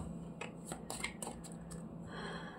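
Tarot cards being shuffled by hand, with a series of soft flicking riffles and slaps in quick bursts, then a smoother sliding rustle, all quiet and close.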